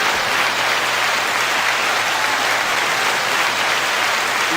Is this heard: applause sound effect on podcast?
yes